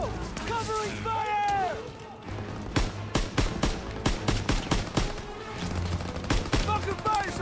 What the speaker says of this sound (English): You gotta suppress the machine gun!